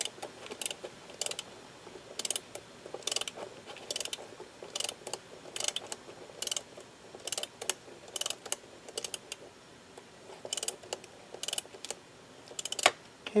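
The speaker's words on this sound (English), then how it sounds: "I'm just going to go ahead and I'm going to ratchet that into place" A torque-indicating ratchet seats a dental implant, giving a slow series of close, crisp clicks in irregular bursts, some rapid and some spaced, with no talk.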